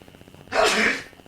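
A single loud, close sneeze bursts out abruptly and lasts about half a second, standing alone against a quiet background.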